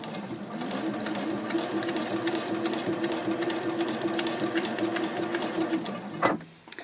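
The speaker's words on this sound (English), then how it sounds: "I'm going to pivot and sew up the diagonal." Sewing machine stitching the diagonal seam of a fold-flat fabric project bag, a close, steady rapid whirring hum running evenly for about six seconds before stopping with a brief clunk.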